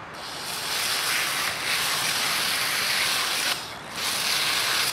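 A pressure washer on angle mode sprays the chain rings of a mountain bike, a loud continuous hissing spray that dips briefly twice as the jet moves.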